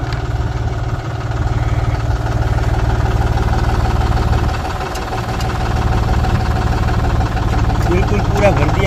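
A tractor engine runs loudly and steadily at full rpm, driving a Maschio rotavator during a vibration test, with a deep continuous rumble and faint mechanical rattle.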